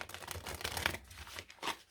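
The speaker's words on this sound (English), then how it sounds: "They're lovely to shuffle though" A deck of goddess oracle cards is shuffled by hand, a quiet, close riffling and sliding with soft bursts of rustle and a brief pause before a final flurry.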